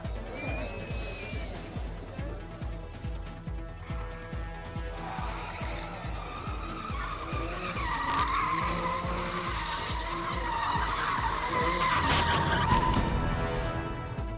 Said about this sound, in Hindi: दिल्ली में चल रहे भारत मोबिलिटी ग्लोबल एक्सपो में कारों और गाड़ियों के हैरतअंगेज स्टंट। कारों को ड्रिफ्टिंग करते नजर आए चालक।